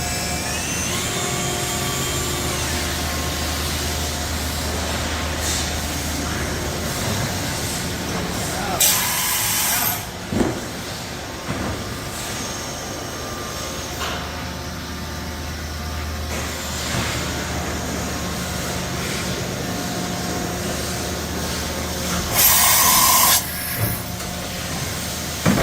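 A 2019 Mazak VTC-200C machining center with rotary table runs its tool chain, with a steady mechanical hum and hiss, intermittent clunks, and brief loud air blasts, while people talk over it.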